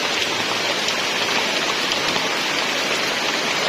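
Heavy rain pours down steadily at a treehouse, a dense, even hiss with no letup and no voices.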